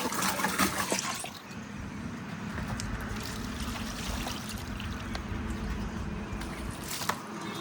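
Water from a tank poured into a jar to rinse out dirty water, a steady close trickling and splashing that runs continuously, louder at the start, at a village temple.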